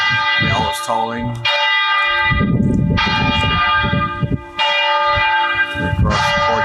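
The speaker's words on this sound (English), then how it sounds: "Bell is tolling." A church bell tolls in Italy on a Sunday morning, heavy repeated strokes roughly every one to one and a half seconds, each ringing on with long humming decay over a busy background rumble.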